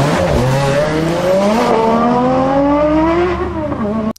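A Tesla electric car launches hard from a standstill, its rising whine climbing steadily in pitch for several seconds before stopping suddenly.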